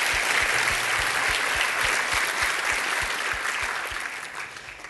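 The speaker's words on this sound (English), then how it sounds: "But she has still deserved your applause for Joanne Gabrinovich." Audience applause at a closing ceremony of a 2011 international conference, a dense steady wash of clapping from a large crowd filling the room, holding level for several seconds before easing slightly at the end.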